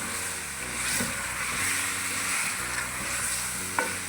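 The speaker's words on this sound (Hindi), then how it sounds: "1-2 मिनट आपने और इसको भूनना है।" Chicken and boiled small potatoes fry in a pan while being stirred, a close, steady sizzle broken by scraping spoon strokes and a sharp clink near the end.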